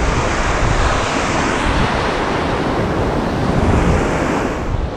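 Ocean surf rolls steadily onto a Galveston beach, a loud, continuous wash of breaking waves with wind buffeting the microphone throughout and no talking.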